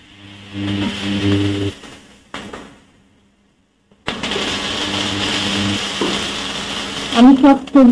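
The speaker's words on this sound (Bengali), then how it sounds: "সব সবজি গুলো আগে ভেজে নিলাম।" Mixed vegetables fried in a pan with bay leaf give a steady crackling sizzle broken by stirring clatter and a brief near-silent gap, then the frying resumes with louder scraping near the end.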